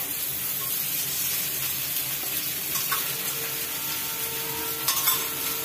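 Oil sizzling around food being pan-roasted, a steady soft crackling hiss with a few faint clinks near the end, close and fairly quiet, no talking.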